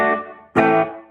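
Two chords from an electric guitar played clean through a 1960s tube tape-recorder amplifier, with bass backed off and treble slightly up; the first rings and fades, then a second struck chord rings out, alone and close.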